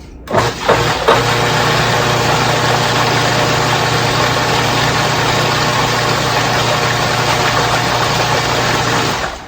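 A food processor whirls loudly and steadily as it blends pesto from nuts, garlic, cheese and oil, starting with a brief burst and then holding one continuous close motor drone, with no talking.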